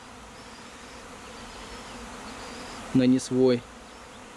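Honey bees from a swarm that arrived without a queen buzz steadily around the hives at a bee yard, with a short bit of close speech breaking in near the end.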